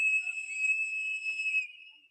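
A whistle blown at a street protest confronting border agents rings as one long, shrill, steady blast lasting nearly two seconds before fading, fairly close.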